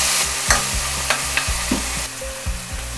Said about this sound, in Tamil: நல்லா கலந்து விட்டுக்குவோம்.